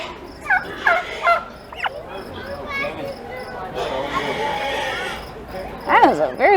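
Broad-breasted white turkeys gobble in short warbling bursts at a poultry show, several calls scattered over a low murmur of voices, with a loud gobble near the end.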